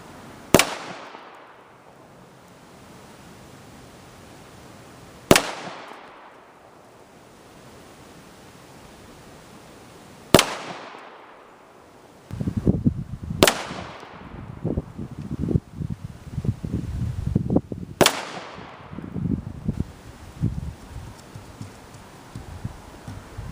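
Kimber 1911 pistol fired at target practice with open sights at about 20 to 30 yards: five sharp, loud single shots spaced several seconds apart, each ringing off briefly. A rough rumbling noise fills the gaps after the third shot.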